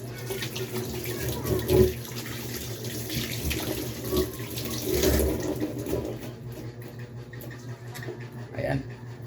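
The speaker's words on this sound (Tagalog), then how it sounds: "Hugas muna tayo ng kamay mga idol." A tap runs steadily into a sink as hands are washed before a home dinner, the water hiss continuous and close with brief louder splashes, under a faint background hum.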